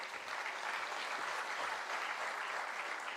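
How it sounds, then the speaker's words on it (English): Steady, even applause from a seated audience honoring panelists at a summit event, a continuous dense wash of many hands clapping, fairly distant and soft, without talk. "Let's have a round of applause, my dear friends."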